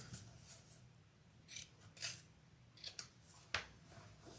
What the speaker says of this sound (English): I'm just trimming my corners, making everything nice and even for my binding